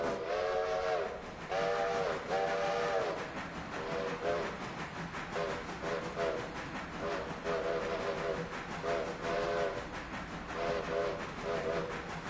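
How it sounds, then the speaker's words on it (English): A steam locomotive whistle in a railroad video game sounds in repeated short and long toots over a steady chugging rail rumble, loud and close, with no talking. "one of them's a high whistle, one of them's not"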